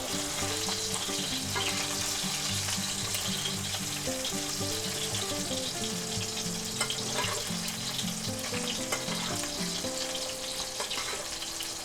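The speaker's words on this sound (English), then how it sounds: "Okay, let's go ahead and baste our steak." A chuck eye steak sears in a pan with garlic and rosemary while being basted, with a strong, continuous sizzle and occasional stirring clatter. Background music plays underneath the whole time.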